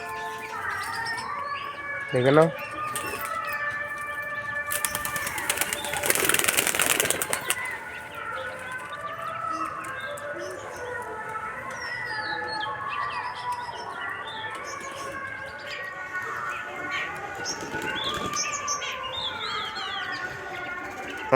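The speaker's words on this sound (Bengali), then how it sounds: "দেখতে পাচ্ছ আমাদের পায়রাগুলো বেরিয়ে পড়ছে একটা একটা করে" Pigeons emerge one by one from their coop, with a loud burst of wing flapping partway through, scattered chirps and coos around it, and a person talking throughout.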